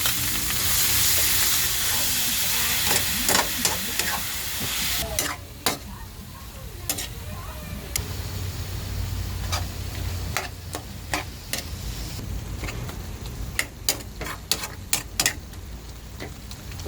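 Ground pork giniling sizzles and hisses steadily while being stir-fried with mixed vegetables in a pan. Scraping and stirring clicks from the utensil tap through the frying noise at close range, with no talk.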